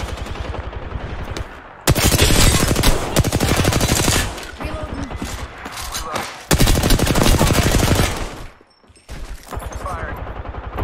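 Rapid automatic gunfire in Apex Legends, two long sustained bursts of loud, dense shots with brief pauses between, plus shorter bursts near the start and end, heard close up.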